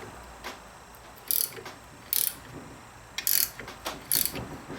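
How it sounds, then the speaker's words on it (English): A ratchet wrench tightens a transmission clutch spring compressor during a 42RH/A500 transmission rebuild, giving four short bursts of quick metallic clicks at a steady pace, close and fairly loud against a quiet room. "let's put the wrench on it"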